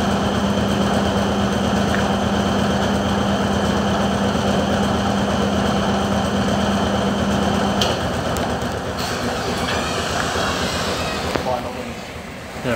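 A Dexter Thoroughbred 400 washing machine spins in a UK laundrette, giving a loud, steady whirring hum with a sustained tone that drops away partway through, against a busy room background.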